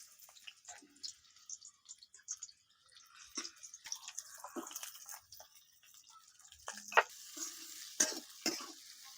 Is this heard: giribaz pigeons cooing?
no